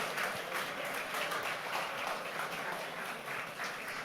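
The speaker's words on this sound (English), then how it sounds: "let's give Eloise a nice round of applause" An audience applauds a volunteer at a live mathemagics stage show, with steady, dense clapping that holds at an even level throughout.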